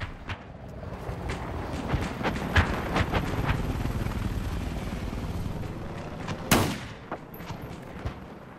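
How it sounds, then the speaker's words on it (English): Pistol shots ring out in a video-game match as a long-range headshot lands, a series of sharp cracks spread across a busy game mix, with one louder, sharper blast near the end. "he makes up for it by getting an incredibly long-range headshot with a pistol"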